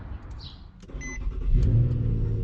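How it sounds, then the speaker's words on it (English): A car engine cranks briefly after its battery is reconnected, then catches, settling into a steady low idle rumble close by. "Let's start the car, see if it works."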